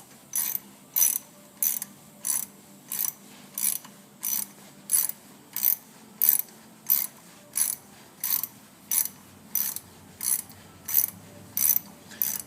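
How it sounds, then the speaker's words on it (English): A 1/4-inch ratchet with a bit driver socket drives a thread repair coil into a hole, giving sharp, regular clicking bursts about once every 0.7 seconds, close and clear against quiet. "I just use a 1/4-inch ratchet with a bit driver socket. And I just run that coil into the hole"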